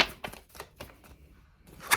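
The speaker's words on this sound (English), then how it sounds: "If I can shuffle these cards." Tarot cards being shuffled, a series of short crisp riffling bursts in an uneven rhythm, near and fairly quiet, with no voices.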